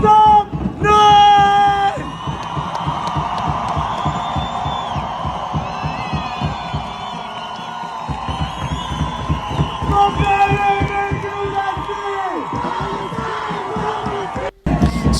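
A large protest crowd in Gaza cheers, yells and chants loudly in sustained waves, with rhythmic shouting and whoops carrying through nearly the whole stretch before a brief cutoff near the end.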